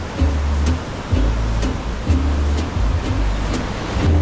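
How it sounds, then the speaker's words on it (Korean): Big ocean waves surge at Broken Beach on Nusa Penida, heard as heavy rolling surf with strong low wind rumble buffeting the microphone in repeated gusts, with no voices. "파도가 엄청나다."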